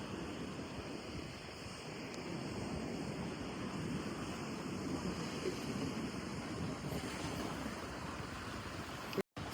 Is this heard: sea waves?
yes